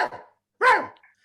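A big bulldog barks twice, close and loud, the second bark longer and harsher with a rough, growly edge, separated by a short silence, as a sound effect in a children's circus story.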